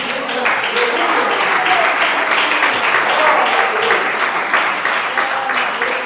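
A church congregation claps together in a dense, steady burst of applause that fills the room for about six seconds, with no pauses or letup.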